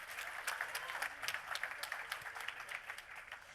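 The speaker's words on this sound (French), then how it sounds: "On peut les applaudir." An audience claps during an award ceremony for a communications trophy, a fairly faint, continuous patter of many hands with no one speaking over it.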